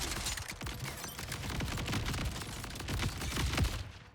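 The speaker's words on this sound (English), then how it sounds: "Shooting it with a tracker barrel grenade didn't really help." Underbarrel tracker grenades fired in a shooter video game, with a fairly faint, dense stretch of overlapping pops and bursts that runs steadily throughout, with no talking.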